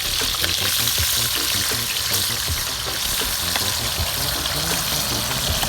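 Tomato frying in a pan for island-style ackee and saltfish makes a continuous, moderately loud sizzle with faint bubbling and occasional light stirring underneath.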